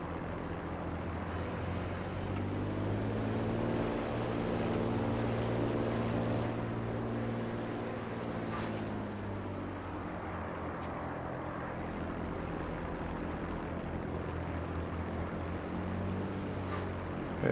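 Aircraft engines in World of Warplanes, overheating: a steady, droning propeller roar with a wavering pitch sweep holds throughout, loud and close, with a couple of brief faint whooshes.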